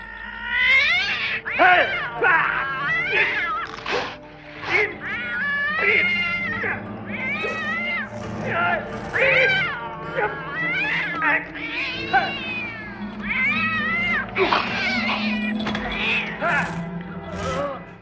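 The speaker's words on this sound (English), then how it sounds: "There's an attack cat." A cat yowls and caterwauls aggressively in a movie scene, loud and close, with a rapid series of rising and falling drawn-out cries and snarls that continue almost without pause.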